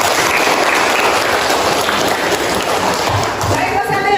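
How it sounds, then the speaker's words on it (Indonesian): An audience claps loudly and continuously in a dense, even burst of applause that holds steady before starting to thin. "Oke, tepuk tangan."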